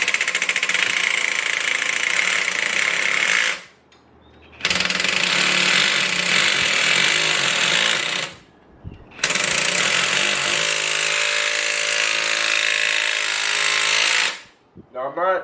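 Power tool slowly backing out the crankshaft pulley bolt on a Chevy LS engine during a cam swap, three long loud hammering bursts with short pauses between, close up.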